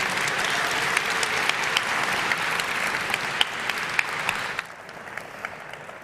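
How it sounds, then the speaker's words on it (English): Conference audience applause after a web design talk, a thick sustained round of clapping with sharper individual claps standing out, then thinning to a few scattered claps near the end. "round of applause for Håkon V. and Lee"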